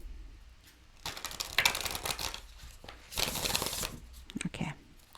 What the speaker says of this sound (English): Shuffle these cards again.